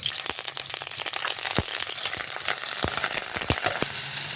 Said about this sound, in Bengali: এখন আমি এই তেলের মধ্যে চিংড়ি মাছ টুকরো দিয়ে দেবো।